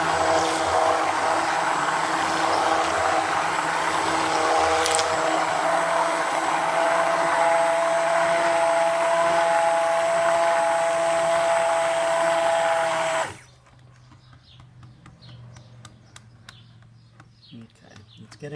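A stick mixer whirs steadily and loudly as it blends soap batter toward trace, then cuts off abruptly, leaving a quiet room with small clicks and faint handling noises.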